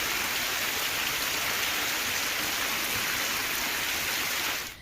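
Heavy monsoon rain pours down in Malpur, Aravalli, Gujarat, a dense, steady roaring hiss with no breaks that cuts off abruptly at the end, with no talk.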